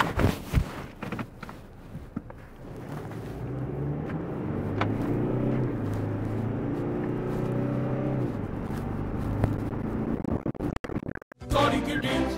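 Toyota Prado J250 diesel SUV on the move, a steady engine drone and road rumble heard from the cabin for about ten seconds, rising briefly with acceleration before fading, with some handling clatter at the start and end.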